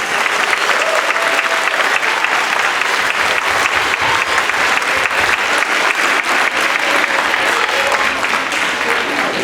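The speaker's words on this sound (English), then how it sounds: "Can we have one more round of applause for all of our students?" Sustained audience applause fills an elementary school spring band concert, dense steady clapping from a large crowd continuing evenly throughout without a break.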